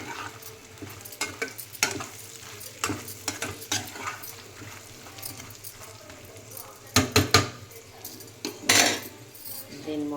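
Brinjal pieces being stirred with spice powder in oil in a pan for a dry curry, with repeated clinks and scrapes of a metal spoon against the pan over a soft background sizzle, close and fairly loud at moments.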